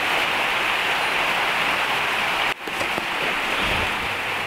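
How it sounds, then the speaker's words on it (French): Steady, dense rain hisses on surfaces outdoors near a van under repair, continuous throughout with a brief dip midway before the downpour resumes. "Vous cachez de la pluie."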